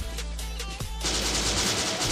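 Semi-automatic sniper rifle shots in the shooter game Bullet Force, heard as sharp, loud reports over game noise, followed by a dense burst of crackling fire.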